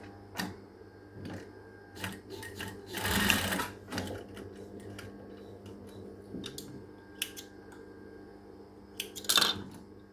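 Domestic sewing machine stitching fabric for a women's shirt, with short bursts of rapid mechanical clatter between quieter stretches of handling and faint rustling, close and fairly soft.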